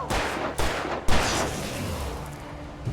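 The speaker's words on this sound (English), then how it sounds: "So many shots, dude." Gunshots in the video game Alan Wake, three heavy blasts spaced about half a second apart, each trailing into a dense rumbling wash that fades slowly, with no voices.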